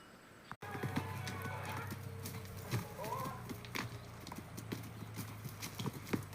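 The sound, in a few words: horse hooves clip-clopping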